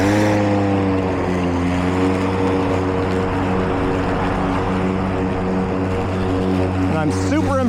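A Milwaukee 2823-22HD battery electric lawn mower runs continuously on a hilly lawn, giving a loud, steady motor hum with a smooth, even whine throughout.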